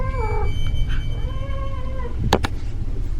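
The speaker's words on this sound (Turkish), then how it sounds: "Sanırım Sanırım sadece kedim Leyla abi." A cat meows a few times, drawn-out and wavering, over a low steady hum, followed by a couple of sharp knocks.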